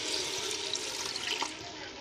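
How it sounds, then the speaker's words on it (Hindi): Water poured steadily from a glass into a pot of mutton cooking for namkeen gosht, a continuous close splashing pour lasting about two seconds with no talk. "अब मैं इसमें थोड़ा सा ग्रेवी इसके लिए और शोरबा रखने के लिए इसमें पानी डाल रहा हूँ"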